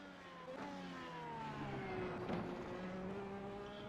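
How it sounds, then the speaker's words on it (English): An IndyCar engine drones at Road America in an iRacing practice session, its pitch sweeping up and down through gear changes with a faint tire squeal, fairly quiet and continuous with no talk. "The first car to come out is the 54"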